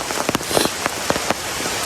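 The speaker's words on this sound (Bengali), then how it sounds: "যাতে করে বৃষ্টি কিছুক্ষণ হলেও থামবে" Heavy rain pours down outdoors under tree cover, a dense, loud hiss with sharper drops spattering on nearby surfaces throughout.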